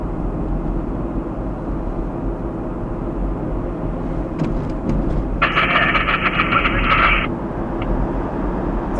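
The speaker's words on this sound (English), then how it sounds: "That's the train that just went by." A freight train passes near a former ALCO locomotive plant, a loud continuous low rumble with rattling and a bright screeching burst midway before it eases off.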